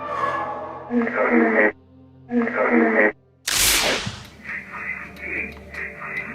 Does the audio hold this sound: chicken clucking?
no